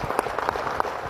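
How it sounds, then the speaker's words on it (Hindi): A short burst of applause from a crowd, clapping loud and close for about a second. "तालियां हो जाए।"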